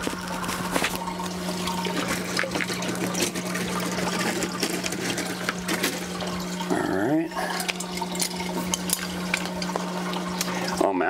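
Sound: water flowing through hydroponic drip system tubing

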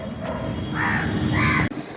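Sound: crows cawing

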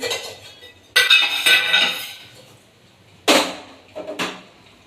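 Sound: kitchen utensils being arranged, clinking

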